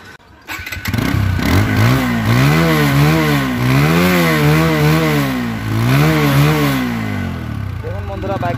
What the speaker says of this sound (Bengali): এখন দেখা হচ্ছে বাইকটির সাউন্ড